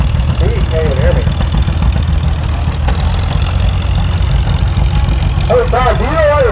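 A straight-pipe tractor engine at a live tractor pull thunders loud and steady throughout, a dense low rumble close by, with a voice talking over it.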